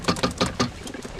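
Pigeons coo in a quick series of four soft, throaty bursts, close by and alone, with a quieter murmur trailing after.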